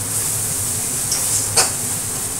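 Onion and cumin tempering hits a pot of dal and sizzles faintly and steadily, with a single brief stirring scrape near the middle.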